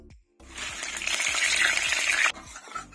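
Jackfruit chips fry in hot oil with a loud, steady sizzle and bubbling, punctuated by soft, regular stirring knocks, with no voices.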